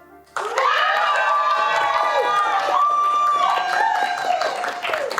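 A live show audience erupts on cue into loud, sustained shouting and cheering, many overlapping voices with whoops and yells rising sharply after a brief quiet start and holding near full level throughout.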